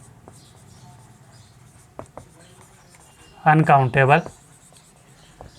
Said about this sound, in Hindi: इसे यहाँ पर UN लिख देता हूँ